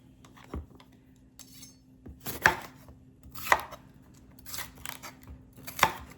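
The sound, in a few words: rough chopping vegetables: onions and bell peppers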